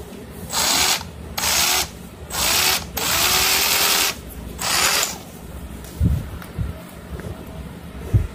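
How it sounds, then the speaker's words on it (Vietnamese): A Lidl Parkside PBHA 12 A1 cordless rotary hammer drills into a wall in several loud, close bursts of grinding hammering, each lasting about a second with short pauses, followed by a few faint knocks. "để mình đục tường rồi mình mới gắn mấy cái giá để mà ấy vào"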